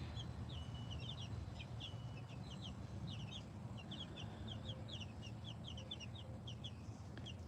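Bantam chicks on their first day outdoors give rapid high cheeps and soft clucks in scattered bursts, small and somewhat distant over a steady low background rumble.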